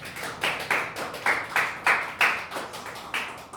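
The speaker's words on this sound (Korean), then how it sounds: "우리 큰 박수로 모시도록 하겠습니다." Audience clapping to welcome a speaker at a church mission society gathering, a modest group applauding in a loose, uneven rhythm of sharp claps, close and fairly loud.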